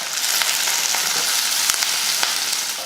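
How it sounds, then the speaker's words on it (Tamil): Chopped onions and two green chillies fry in hot oil with mustard seeds, urad dal and curry leaves, producing a loud, close, continuous sizzle dotted with small pops and crackles, without any talking. "எண்ணெய் காஞ்சதுமே கொஞ்சம் கடுகு உளுந்து, கடுகு பொரிஞ்சதுமே கொஞ்சம் கருவேப்பிலை, கொஞ்சம் வெங்காயம்"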